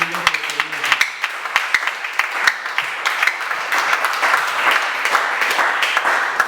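A church congregation breaks into sustained applause, a dense wash of many hands clapping steadily at close range, mixed with a few scattered shouts.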